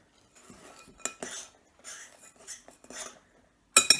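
A spoon scrapes and clinks around a bowl while dried fruit is stirred into a buttermilk scone mixture. The irregular, close scraping and tapping is heard alone, followed by a louder clatter at the end.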